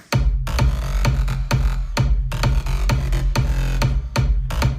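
Sub kick and bass line playing together in FL Studio, a deep booming low end under a steady electronic beat, with loud repeated kick hits in a regular rhythm and no voices.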